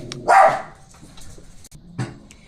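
Dogs bark indoors at home, with one loud sharp bark followed by quieter yips and a second bark near the end, all fairly close and short.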